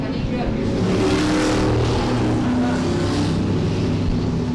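Crown Vic race cars roar steadily around a speedway during a feature race, a dense continuous engine drone with shifting revs, while an announcer talks over the racing.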